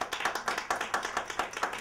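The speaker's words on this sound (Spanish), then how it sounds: "Pido un aplauso para el profesor." Scattered applause from a small lecture audience after a professor's talk, a thin, uneven patter of hand claps with a loose, slightly pulsing rhythm, moderately close and fairly quiet.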